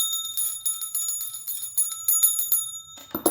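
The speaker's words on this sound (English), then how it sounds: "Let's ring the bell." A bell rung repeatedly in quick succession, its bright high ringing tones shimmering and overlapping for about three seconds before a soft handling rustle at the end.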